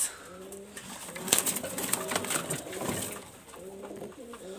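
Pakistani high-flyer pigeons coo softly in repeated low phrases, a quiet ambient background with a brief rustle of movement, no talking.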